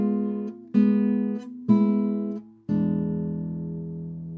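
Classical guitar playing bar 9 of a Sagreras beginner lesson, thumb, index and middle fingers plucking the sixth, third and second strings. Four separate plucked notes ring and decay one after another, close and alone, the last left to sustain.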